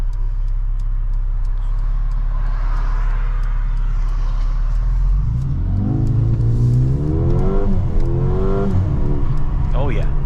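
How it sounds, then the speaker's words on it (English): A 2023 Mercedes GLA 35 AMG launches hard from a dead stop: low engine drone swells into a loud rising rev with climbing harmonics through the gears, close and continuous, with a voice talking over part of it. "Oh yeah, this thing pulls very hard. No wheel spin from a dead stop and while taking a turn."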